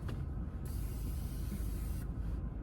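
A Chanel spray bottle is pumped, giving two airy hissing bursts, the first long and the second short, close to the mic.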